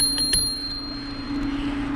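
Two quick bicycle bell dings ring out near the start, a rider signalling on a bike trail, followed by steady road and wind noise with no talking.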